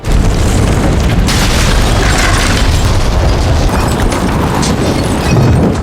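A massive, loud grenade explosion in a room full of lime powder roars and rumbles continuously, its dense blast filling the whole stretch without pause.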